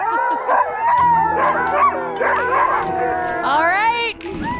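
Sled dogs at a mushing school howl and yip together before a run, with overlapping rising and falling howls and a few short barks close by.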